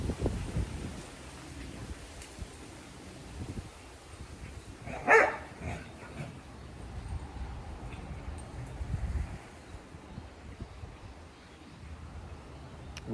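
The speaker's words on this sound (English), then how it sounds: "These dogs are really going at it." Dogs bark outdoors in gusty wind, with a sharper burst standing out midway over a steady bed of wind noise and rustling leaves; no one speaks.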